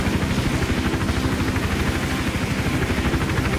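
Helicopter rotor thumping steadily and loudly throughout in the video game Hitman Absolution, a dense low chopping pulse with engine whine, no speech over it.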